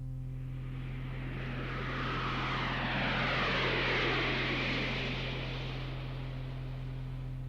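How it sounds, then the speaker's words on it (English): An airplane passes overhead as a steady broadband roar that swells to a peak midway through and fades again, with a constant low hum running underneath throughout. "A jet plane flies very fast."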